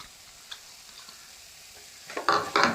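Homemade herbal medicine mixture with fresh green coriander stirred in a pan, a quiet opening followed by two louder bursts of scraping and sizzling near the end.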